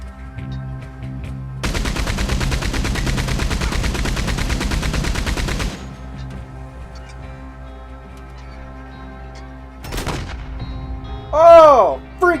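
Rapid automatic gunfire from the Red Dead Online video game rattles for about four seconds, loud and dense, followed by a quieter stretch, a single sharp burst and a few brief game sound effects.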